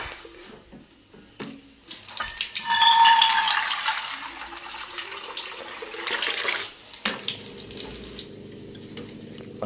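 Water pours into a pan while butter paneer masala cooks in butter, a steady bright splashing rush in the middle that gives way to a lower simmering sizzle toward the end, with a few clinks early on.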